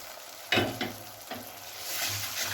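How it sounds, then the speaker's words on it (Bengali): Water from a batter bowl splashes into a hot pan of cauliflower manchurian, a sudden loud hiss and burst of sizzling followed by stirring scrapes and a rising steady fry. "সেই জলটা এখানে ঢেলে দেব"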